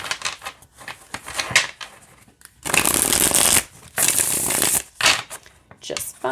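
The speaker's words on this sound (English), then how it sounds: "So I'll show you how it shuffles." Tarot cards are shuffled in two brisk, crackling riffle bursts, close and loud, with a person talking before, between and after them.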